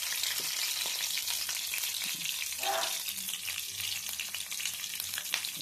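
Oil heats in a pan with a soft, steady sizzle and light bubbling, faint and close, with a few small clinks and scrapes and no talk.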